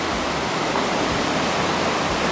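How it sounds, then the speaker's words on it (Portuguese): The Tietê river in full flood, its high volume of water rushing in a steady, loud broadband roar close by, with no voices heard. "Aqui nós temos o rio Tietê."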